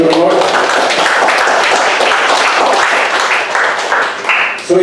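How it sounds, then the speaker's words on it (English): A church congregation at a worship service bursts into loud, dense applause that carries on steadily for several seconds before tapering off near the end. "Can we give a big clap offering to the Lord?"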